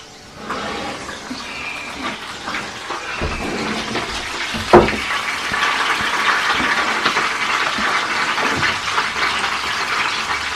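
Water and white wine pour and splash steadily into a roasting pan holding a duck for several seconds, a continuous gushing rush with a brief clatter midway.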